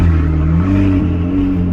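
A McLaren sports car engine rumbles loud and close, steady at first, then swelling slightly as it revs during a night drive, with no voices.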